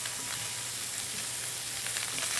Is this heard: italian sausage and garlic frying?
yes